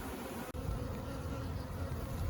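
A honeybee swarm being caught in a back yard, a dense, steady buzzing of many bees that fills the whole stretch at close range with no voices.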